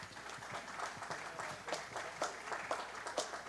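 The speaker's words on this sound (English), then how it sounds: "we don't give all these kids a nice round of applause." Faint applause at a local livestock show, scattered claps from a small crowd with distinct individual hand claps standing out, heard at a distance and uneven in rhythm.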